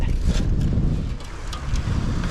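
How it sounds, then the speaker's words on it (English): Gusty wind buffeting the microphone with a low rumbling roar, steady and close, with faint rustling over the top. "it's a little bit windy out here. My hat's blowing off"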